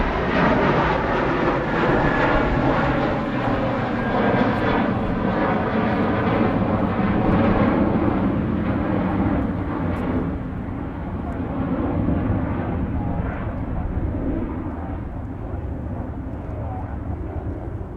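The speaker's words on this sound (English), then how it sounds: "Lufthansa going to Frankfurt." A Lufthansa airliner departing Manchester Airport bound for Frankfurt makes a loud, broad jet-engine roar that stays strong for most of the stretch, then gradually thins and dulls as the aircraft climbs away.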